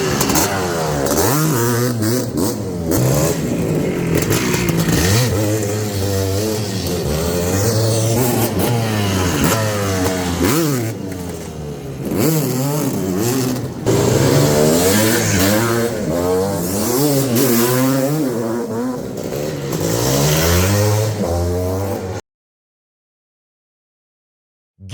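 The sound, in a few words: motorcycle engine revving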